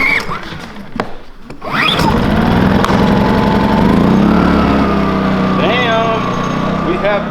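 A Duromax XP2000EH portable generator engine catches and settles into a loud, steady running drone after a brief pull-start clatter, with someone speaking excitedly over the engine noise.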